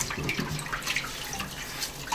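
Tap water runs steadily over pork belly in a kitchen sink as the skin is scrubbed clean with a steel wool pad, a continuous close splashing hiss with no voices.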